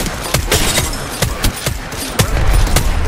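Rapid bursts of gunfire crack out in the Apex Legends battle royale, sharp repeated shots in uneven clusters, loud and close, with no talk over them.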